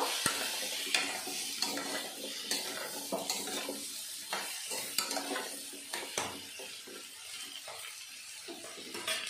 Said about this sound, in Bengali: পরিমাণ মতো হলুদ গুঁড়ো দিয়ে আমি ভালো করে নেড়ে চেড়ে নেব।